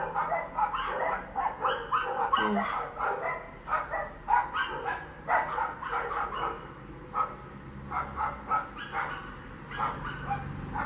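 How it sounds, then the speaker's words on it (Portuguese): Several dogs bark and yip repeatedly throughout, fairly close and loud, in a steady run of overlapping barks with occasional whimpers. "E os cachorros começaram."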